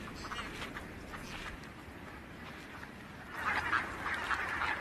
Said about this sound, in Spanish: Patos, cisnes y fochas se apiñan en los últimos charcos disponibles